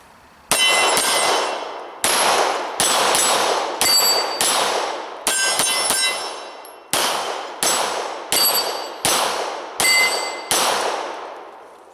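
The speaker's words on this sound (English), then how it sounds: "7 yards away, hitting steel, ringing it." Nine-millimetre rounds from a Glock 17 Gen 4 pistol strike steel targets seven yards away, giving about fifteen loud, sharp metallic clangs. Each clang rings out and decays, spaced in quick irregular bursts, with no talk.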